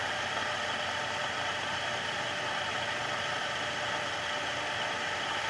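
A small 1/3 horsepower electric motor on a bench under heavy load, running as a steady, dense broadband whir and hum with no change in pitch or level throughout, close and alone.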